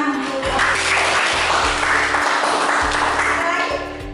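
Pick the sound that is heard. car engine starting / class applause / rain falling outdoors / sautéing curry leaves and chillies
class applause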